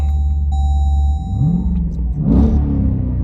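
The V8 in a Jeep Grand Cherokee SRT rumbles deeply just after start-up, then gets a quick rev that rises and falls. It sounds close and loud, with no talking.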